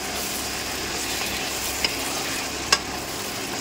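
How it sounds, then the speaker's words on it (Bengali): Potatoes and a splash of water go into hot spiced oil, giving a steady, close sizzle with stirring and two brief sharp crackles. "এবার এই যে আলুগুলো দিয়ে দিচ্ছি একটু, এবার অল্প একটু জল দিয়ে দেবো সামান্য।"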